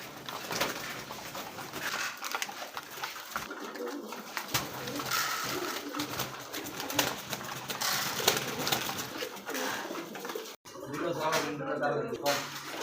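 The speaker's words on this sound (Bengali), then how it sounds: "এই দেখছেন পারাপারি মারামারি করে খাইতেছে" Pigeons feeding and scuffling over grain, with close, continuous cooing, wing flutters and pecking clatter, and someone talking over them.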